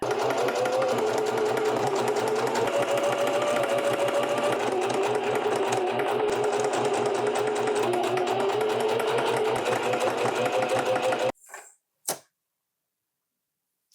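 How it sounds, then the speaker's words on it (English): Sewing sleeves onto a t-shirt bodice, a machine runs in one long, steady, loud hum-and-rattle for about eleven seconds before stopping, followed by a couple of brief handling clicks. "Let's sew these arms to the bodice"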